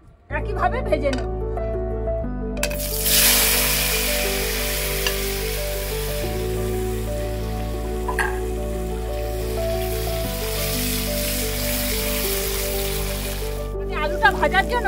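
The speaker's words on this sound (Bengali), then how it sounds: "এবার আমি আলুটাকেও একইভাবে ভেজে নেব।" Potato pieces frying in oil in a home kitchen while cooking a bitter gourd and potato posto, a steady close sizzle running throughout with occasional stirring scrapes, a voice speaking over it at times.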